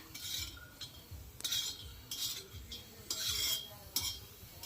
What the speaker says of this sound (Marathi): आता बघा असे तव्यावर थोडे भाजून घ्यायचे आहेत